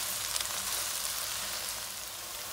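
A steady, close sizzle of green beans curry frying with garlic and chilli powder in a pan, continuous broadband crackle throughout with no voices.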